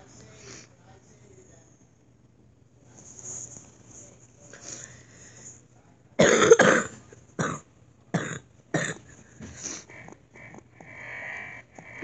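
A person gives a few sharp, close coughs after a quiet stretch, with faint throat sounds and light voice noise around them.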